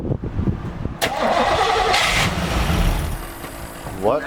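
A 1987 Camaro engine cranks and catches, then runs roughly at idle with some revving for several seconds, while people talk nearby.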